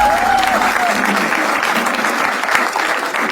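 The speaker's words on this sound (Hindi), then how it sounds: "तो शुरू करते हैं तालियों के साथ।" A comedy show audience claps and cheers in a dense burst of applause, steady and loud with a brief high whistle at the start, fading slightly toward the end.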